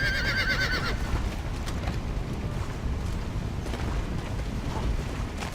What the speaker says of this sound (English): Your horse will not hold still.